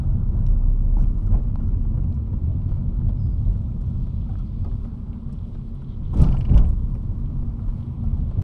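A car driving, heard from inside the cabin: a steady low engine and road rumble throughout, with a brief louder thump or bump near the end, no talking.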